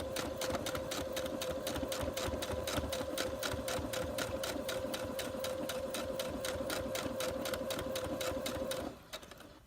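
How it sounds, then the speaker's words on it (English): A sewing machine stitches across a quilt seam in a steady, rapid mechanical chatter with a humming motor, running continuously close by before slowing and stopping at the end. "Then continue sewing across the seam."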